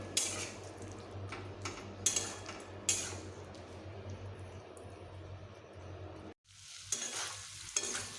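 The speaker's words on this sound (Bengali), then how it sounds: "মশলা দেবার পরে আমি একটু ভালোভাবে এখন এইভাবে ভেজে নেব" Masala spices for a batch fish curry fried in a pan, quiet sizzling with frequent spatula scrapes and clinks against the metal, briefly cutting out before resuming.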